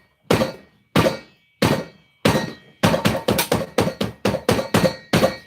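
A soap mold of patchouli rainbow soap is banged down hard on a surface again and again, about fourteen loud close thunks, slow at first and then in a quick, steady run, with no speech.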